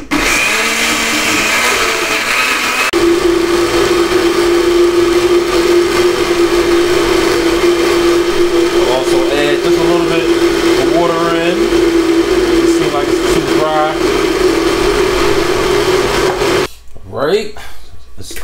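A blender purees cooked peas with a splash of their boiling stock, a loud steady whirring drone that runs nearly the whole time before cutting off near the end.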